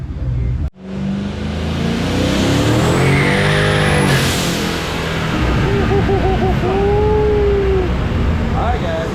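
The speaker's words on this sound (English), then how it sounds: "Smoking the tires on the dyno." A twin-turbo Ford Coyote-powered car smokes its tires on a dyno at a Ford dyno shootout, with a loud, sustained engine roar and tire screech that swells and wavers throughout, over faint background voices.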